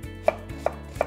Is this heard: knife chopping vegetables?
yes